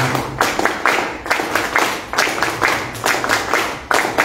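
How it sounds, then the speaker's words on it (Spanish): An audience in Lima at an event on agricultural proposals applauds in loud, rhythmic bursts of clapping that pulse in unison several times. "Fuertes palmas para él."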